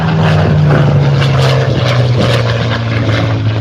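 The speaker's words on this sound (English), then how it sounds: "let's get the Spitfire airborne" An RC Spitfire model airplane's engine and propeller drone loudly and steadily at high power during takeoff, a constant buzzing whine with a slight pitch drop toward the end.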